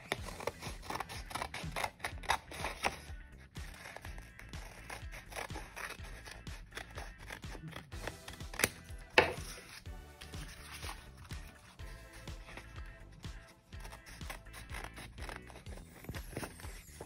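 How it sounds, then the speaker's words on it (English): Scissors trimming along the edges of paper for a lava lamp art project, a run of close, crisp snipping and rustling paper sounds throughout, with no voices. "So we want to carefully cut along these edges so that this will fit my lava lamp shape."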